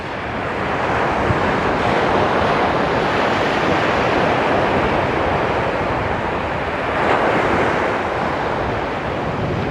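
Rough ocean surf roars continuously at Phala beach in Rayong, Thailand, a dense wash of crashing waves mixed with wind buffeting the microphone, loud and steady with no voices.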